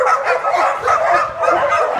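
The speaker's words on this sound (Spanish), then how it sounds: "Bueno, Goretti, a ver si los perros nos dejan mirar bien dentro sin hacer demasiado ruido" Several dogs at an animal shelter bark, yip and bow-wow in close, overlapping bursts that keep going for the whole moment, with no talk over them.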